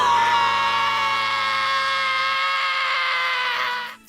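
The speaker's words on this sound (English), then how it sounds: "The epicness of that power-up scream aside" Gohan's power-up scream from the Dragon Ball anime, a loud sustained harmonic yell held for nearly four seconds over a low rumble, then cutting off abruptly.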